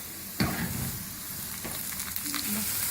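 Cumin seeds, whole round red chillies and kalonji hit hot oil for a tadka, a crackling sizzle with a sharp pop at the start and continuous frying hiss close by, no talking.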